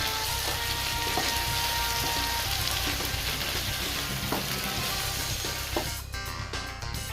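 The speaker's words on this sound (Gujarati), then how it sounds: "હવે આપણે જે ગ્રેવી બનાવી હતી એ આપણે એડ કરી દઈએ." Gravy for a corn and capsicum dish hits a hot pan over a low flame, giving a steady, close frying sizzle that holds for several seconds, with a few faint stirring knocks and no talk.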